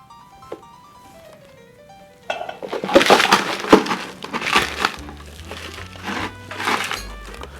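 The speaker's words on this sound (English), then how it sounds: "So the reason we use a canvas bag, or Lewis bags or canvas, because as you crush your ice" Ice is smashed inside a canvas Lewis bag while a low-carb Queen's Park Swizzle is being made. A quiet lead-in gives way to repeated loud, close crunching blows that continue unevenly to the end, with no speech.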